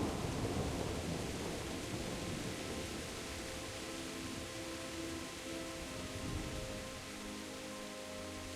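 Steady rain pours over a medieval countryside in Kingdom Come: Deliverance, with low thunder rumbling through the opening seconds before the downpour settles into a continuous hiss alone.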